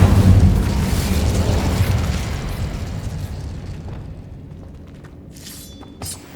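Incendio fire spell in Hogwarts Legacy, a loud roaring burst of flame that starts heavy and slowly dies away, followed by a few faint clicks and chimes.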